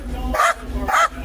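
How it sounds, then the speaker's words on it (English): A dog barks twice from inside a car during a tense police traffic stop, two loud, close, evenly spaced barks. "Dog in the car!"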